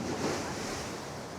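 Floodwater rushes in a strong, continuous roar during a nighttime flood, dense and steady with no pauses.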